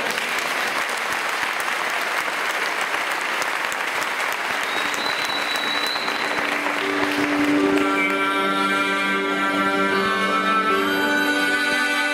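Audience applauses steadily throughout a solidarity gala concert in O Grove, and sustained musical tones enter partway through as the performance begins under the clapping.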